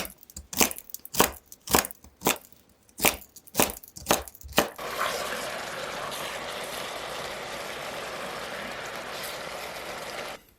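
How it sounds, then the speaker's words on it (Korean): Knife chopping celery on a cutting board, about nine sharp, evenly spaced chops close up, then a steady hissing wash of sound takes over for the rest. "질긴 껍질은 벗겨내고 적당한 크기로 자르세요."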